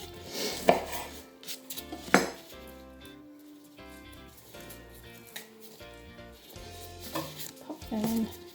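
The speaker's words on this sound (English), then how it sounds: "I'm just going to peel mine, just take off the flimsy bits. Let's cut the tops as well, actually." Vegetables being peeled and trimmed for a wok stir fry, with a few sharp knife knocks and cuts on a board among soft clattering kitchen handling, fairly quiet and close, no talking.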